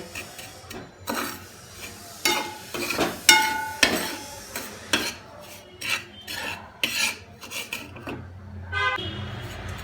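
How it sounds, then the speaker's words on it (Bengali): Repeated scraping and rasping of a spoon stirring medium semolina as it roasts in a pan, close up, irregular strokes with occasional metallic clinks. "সুজিটা আমার একদম মিডিয়াম আছে, অনবরত নেড়ে ভেজে নিতে হবে।"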